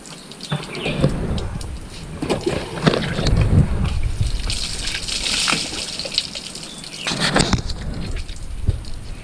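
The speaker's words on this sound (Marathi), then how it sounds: "इथं आपला बबलू आंघोळ करतोय अशीच आंघोळी करूया आपण पण स्वच्छ पाण्याने" Clean water is poured over a boy bathing outdoors near an old school-like house in rural Konkan, splashing and gushing in repeated loud pours, with brief quieter gaps between them.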